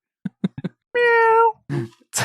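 A person's voice imitates a cat's meow during a casual podcast conversation. One drawn-out, tonal meow sounds close and clear, with brief vocal sounds before and after it.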